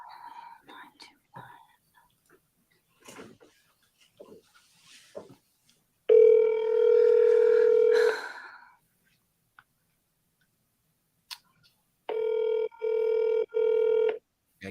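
Telephone tones sound while a sales caller dials prospects, in two loud, steady electronic bursts of about two seconds each, separated by quiet murmured talk.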